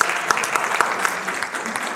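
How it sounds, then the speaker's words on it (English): Steady crowd applause from a business seminar audience, dense and moderately loud with a few sharper claps standing out, continuing without a break. "Give them a round of applause."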